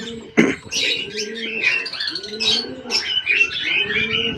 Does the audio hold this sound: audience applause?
no